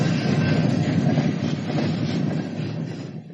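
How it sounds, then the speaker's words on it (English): A train rolls in with a loud, steady rumble of rail cars and faint clickety-clack from the wheels. The noise eases slightly toward the end and no one speaks. "The train arrives."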